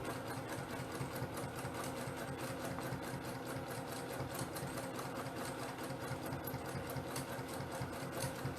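A sewing machine stitches steadily through free motion quilting, its rapid, even needle rhythm running continuously and close up with no pauses.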